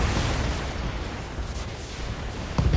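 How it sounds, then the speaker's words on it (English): A mech explodes catastrophically in the BattleTech video game, a dense, roaring, rumbling blast that fills the whole stretch with heavy low booms and crackling debris, ending in another thump. "That's a catastrophic explosion."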